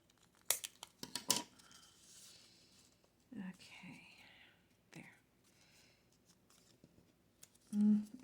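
Paper is snipped with scissors for a stacked banner craft, giving a few short crisp cuts with paper rustling and handling in between and a brief low thump near the end.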